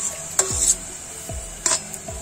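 Rui fish pieces dropped into a boiling tomato curry, producing a soft bubbling simmer punctuated by a few sharp knocks and splashes of utensil against pot, close and moderately loud with no voices.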